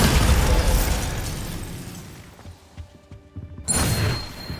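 Bombarda explosion spell cast in Hogwarts Legacy, a loud blast that decays over a couple of seconds into scattered debris thuds, then a second sharp burst near the end.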